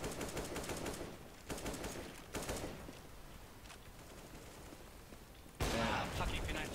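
Bursts of P90 submachine gun fire in Counter-Strike: GO on the Inferno map crackle in rapid strings, with a louder, sustained volley near the end, while players talk over the action.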